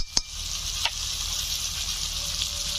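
Ground ginger, cumin, coriander and dried chilli paste hitting hot oil in a pan for a Bengali koi fish curry, a steady close sizzle with a couple of sharp utensil taps early on.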